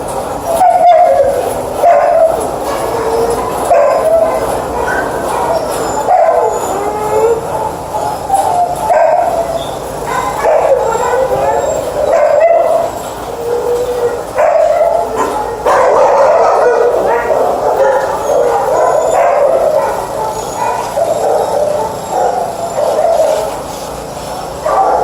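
Several dogs bark, yip and howl almost without pause at a no-kill rescue shelter, a dense, echoing chorus that fills the space with overlapping yelps and whimpers.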